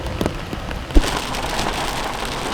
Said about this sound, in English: There's lightning. It's thundering like crazy. We're gonna get soaked.